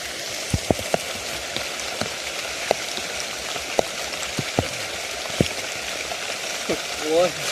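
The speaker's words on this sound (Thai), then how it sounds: "ฝนตกครับผมพี่น้อง" Rain patters steadily on leaves and ground in a forest during a red mushroom hunt, a continuous hiss punctuated by sharp individual drips, with someone speaking briefly near the end.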